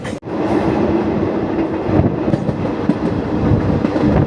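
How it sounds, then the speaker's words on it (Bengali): Haldibari Superfast Express 12363 running through Jharkhand after leaving Pakur station, a loud, steady on-board rumble of wheels and carriage with faint rhythmic clatter, continuous and close. "আমাদের এই ট্রেনটি কিন্তু পাকুড় স্টেশন ছেড়ে রওনা হয়ে পড়লো"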